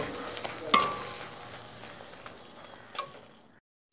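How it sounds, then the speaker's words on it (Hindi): Poppy seed paste stirred and fried with spices in a pan, giving a soft sizzle with scraping and clinking of the spoon, a sharp knock near the start and another later, then fading to quiet. "अभी मैं खसखस का पेस्ट इसमें डाल रही हूँ। अब इसको मिक्स कर रही हूँ।"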